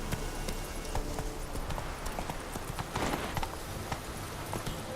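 Roach, the horse in The Witcher 3, gallops with rapid, rhythmic hoofbeats that thud steadily throughout the stretch, close and fairly loud with game ambience.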